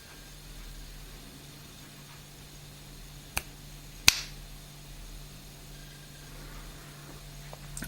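Two sharp finger snaps, a few tenths of a second apart, ring out over a quiet room hum to wake a NetAtmo weather station display unit.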